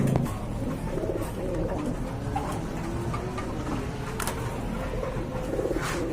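Soft, low cooing of pigeons repeats steadily amid busy background noise, with occasional wing flutters or knocks.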